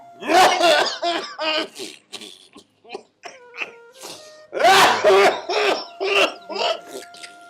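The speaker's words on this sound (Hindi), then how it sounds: "अरे इस बुढ़े ने खांसी ने जम्मा खा लिए।" Old man's coughs come in two harsh bursts of several rough hacks each, close and loud, with throat rasps and a short stretch of quieter sounds between them.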